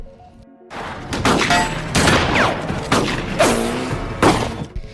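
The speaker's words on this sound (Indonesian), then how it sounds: "tentunya di sini terjadi baku tembak yang seru antara tim Grit dan tim Malden" Gunfight from a zombie survival movie, The Dead (2021), with loud bursts of gunfire and heavy impacts over tense score, booming shots recurring every second or so, with brief whistling streaks between blasts.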